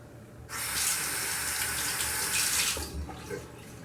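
Tap water running into a sink to rinse a razor during a shave, a steady close hiss of flowing water that starts abruptly and stops after about two and a half seconds.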